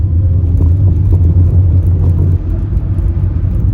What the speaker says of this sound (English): It's a nice sounding car, this is.